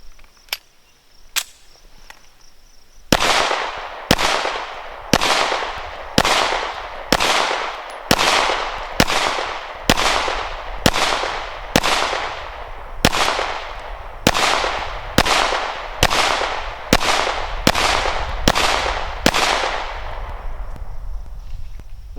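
A Springfield Armory XDM 9mm pistol fires through a magazine at target testing: two isolated shots, then a steady string of about eighteen sharp, loud reports at regular intervals, each ringing briefly before the next.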